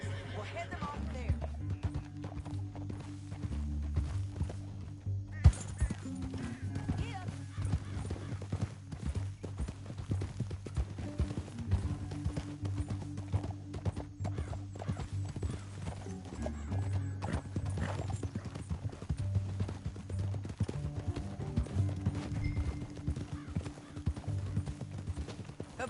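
Horse hooves clip-clop at a gallop in the Western video game Red Dead Redemption 2, a steady rhythmic beat with a neigh or whinny, set over a low musical score and game ambience.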